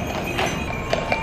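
Horses clip-clopping along a Boston city street, with a few sharper hoof strikes standing out over steady outdoor traffic and ambient noise.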